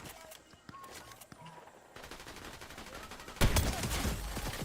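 Gunfire during a Fortnite match, a burst of rapid shots that turns into a loud, sustained volley in the second half, with scattered single cracks earlier.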